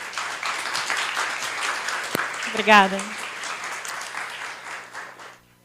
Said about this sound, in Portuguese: Vamos dar um aplauso para ela, né?